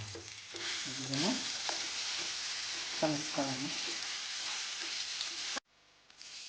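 Lemon chutney being stirred as it fries in a pan with a tempering of dried red chillies, giving a steady close sizzle with scraping strokes of the spoon, until it cuts off abruptly near the end.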